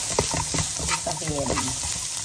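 A spatula scrapes and stirs seasonings of chicken powder, turmeric, salt and black pepper through a pan for fried rice. The rhythmic scraping clatters close over a continuous frying sizzle.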